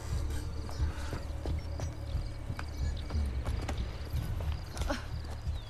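Horse hooves galloping in the video game Assassin's Creed: Brotherhood, steady rhythmic clip-clop beats over a dense background hum with faint insect-like chirps.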